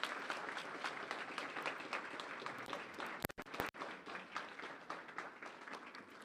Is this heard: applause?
yes